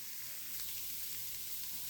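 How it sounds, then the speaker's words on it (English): Flour sautéing in butter in a pan for a clam and scallop chowder roux gives a steady, close crackling sizzle throughout, no voices. "You're just going to cook that, saute that a bit for about a minute or 2."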